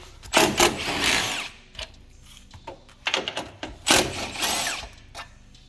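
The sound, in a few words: power tool removing bolts from Mustang support panel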